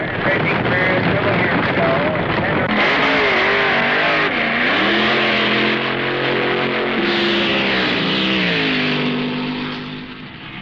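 Loud sustained engine roar from a 1969 drag race, an overhead cam Ford Mustang against a blown Hemi Chrysler, with rising and falling engine pitches and wind noise, fading slightly at the end.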